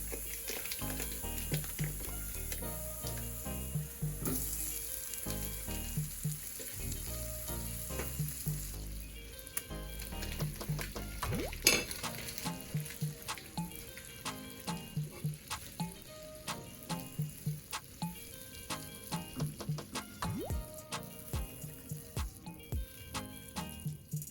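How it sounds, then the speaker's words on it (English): Butter melting and sizzling steadily in a hot pan for a seafood boil sauce, a continuous close crackle with occasional stirring clatter and a brief watery splash partway through. "I'm gonna go ahead now and add the rest of our butter"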